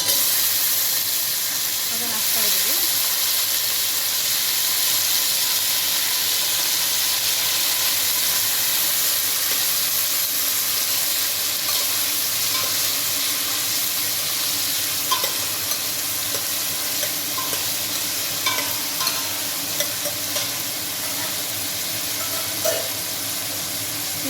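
Curry leaves, chopped onion and brinjal sizzle and hiss in a hot pan while being stirred for a sambar, a steady loud frying sound with occasional scrapes of the spoon.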